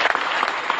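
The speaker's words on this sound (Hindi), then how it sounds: "मैं चाहूँगा उनके लिए जोरदार तालियां।" Audience at a direct-selling success event in Dhanbad breaks into clapping, a brief, dense burst of many hands at moderate loudness with no voices on top.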